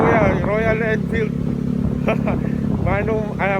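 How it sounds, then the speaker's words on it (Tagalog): A Royal Enfield motorcycle engine drones steadily while riding, a low, even rumble running beneath a voice that talks over most of it. "Angas na motor ni Kuya, Royal Enfield."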